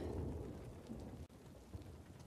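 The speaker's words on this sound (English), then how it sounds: "right now it's raining" Rain falls steadily in Uncharted: The Lost Legacy, a soft hiss of drops with low rumbling thunder beneath, quiet and continuous throughout.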